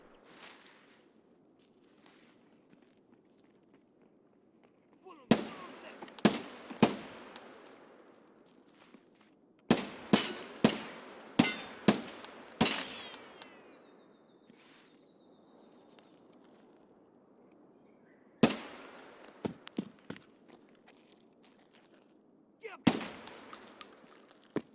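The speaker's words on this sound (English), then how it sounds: "Let's get these headshots on the Fontaine guards." Rapid gunfire in Escape From Tarkov, shooting at guards, comes in several clustered bursts of sharp shots separated by quiet stretches, loud and close, with occasional speech in between.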